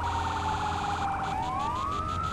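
A fire truck siren in Firefighting Simulator wails continuously, its pitch sweeping up and down over a steady game engine drone, loud and unbroken with no speech.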